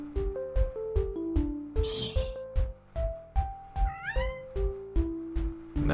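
Repeated cat meows from the video game Goo Gladiators ring out over a bouncy, rhythmic game music track with steady beats, with no talking.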